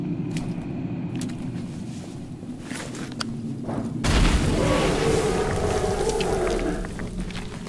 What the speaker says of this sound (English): I know that noise. It's that fire monster again.